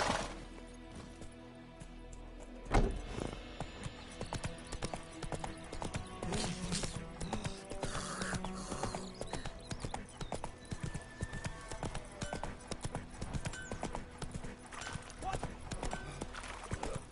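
Roach, a horse in Witcher 3, trots along with steady clip-clop hoofbeats under a game soundscape, a brief whinny and scattered impacts rising partway through, with voices speaking over it.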